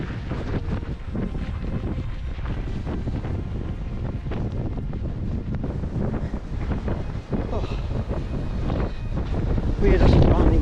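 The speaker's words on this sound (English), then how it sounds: "It's still super windy." Strong wind by the sea buffets the microphone in a continuous, roaring rush that swells near the end. It blows along a coastal stretch of a 100-mile trail race in Sweden.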